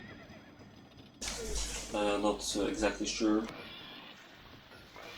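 Several horses neighing in the medieval strategy game Knights and Merchants, a few clear whinnies in quick succession over a low rumble, with a voice talking briefly before them.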